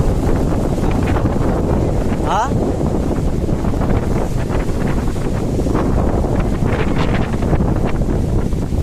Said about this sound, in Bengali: প্রচণ্ড হাওয়া লাগে মানে আমি দাঁড়িয়ে থাকতে পারছি না মানে এত হাওয়া এত হাওয়া